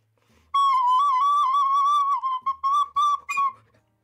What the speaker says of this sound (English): Practice blowing into the recorder.